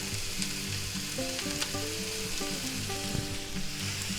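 Poblano peppers frying in a pan for a vegan burrito: a steady, close sizzle hisses throughout, with faint low clinks and stirring sounds underneath and no talking.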